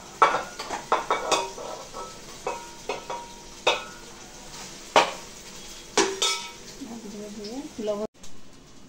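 Rice, capsicum and carrot are tipped into a pan and stirred, with metal utensil scrapes and clinks against cookware in an irregular rhythm, close and fairly loud, ending in a faint sizzle.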